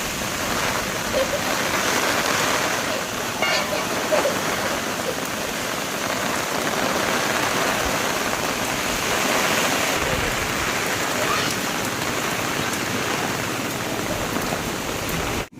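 Heavy rain pours down in a dense, continuous roar of countless drops hitting surfaces nearby, loud and unbroken throughout.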